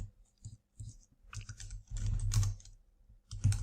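Keys clatter on a computer keyboard during Elasticsearch cluster setup in a terminal, with irregular bursts of close, crisp clicks and short pauses, getting busier and louder toward the end, with no talking.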